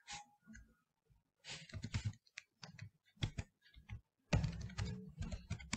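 Rapid bursts of computer keyboard typing while entering code for a React to-do app, with irregular clusters of close, crisp key clicks separated by short pauses and no talking.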